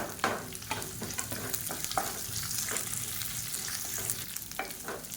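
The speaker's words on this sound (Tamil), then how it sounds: "வெங்காயம் நல்லா வதங்கிருச்சு." Sliced onion sautés with garlic in a pan for a chutney, a steady sizzle and frying crackle with occasional stirring scrapes, close and continuous with no talking.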